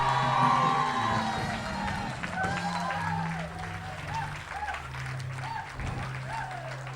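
A church congregation cheers and applauds, with crowd shouting and whoops over continuous clapping that stays fairly even before easing slightly, and voices calling out within the noise.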